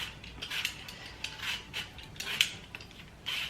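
A hand peeler scrapes around an apple in repeated short, rasping strokes with a faint crisp tearing of skin, close and quiet in an otherwise silent kitchen, the strokes coming in an uneven rhythm.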